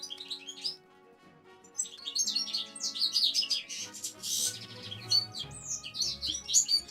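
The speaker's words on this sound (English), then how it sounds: "Oh my god, the bird is so loud." A bird chirps loudly and close by, its rapid bright tweets coming in repeated bursts over a quiet background with a soft musical tone underneath.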